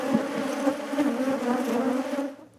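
Bees buzzing in a steady, close, droning hum that holds for a couple of seconds and then fades out.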